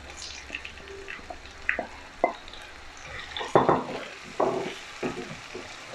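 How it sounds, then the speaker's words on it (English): Tomatoes being stirred into frying onions, ginger and garlic while cooking a cod fish curry: a soft, low sizzle with scattered clinks and scraping stir strokes, some louder bursts near the middle, and no voices. "We're going to add the tomatoes."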